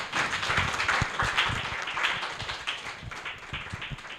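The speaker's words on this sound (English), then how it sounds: "I would like us to give all the speakers a very big round of applause" Applause for the speakers at an executive talk show, with dense clapping from a live audience holding steady and loud across the whole stretch, with no talking.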